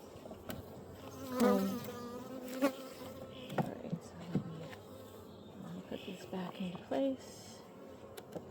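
Honeybees buzz faintly around an opened hive during an inspection, with scattered whining passes of individual bees close by, over a quiet background of handling noises.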